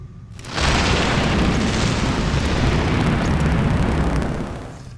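Weapon fire and explosions in the Star Trek video game Starship Creator during a Bird of Prey mission form a loud, sustained, rumbling roar that swells in, holds steady for several seconds, then fades.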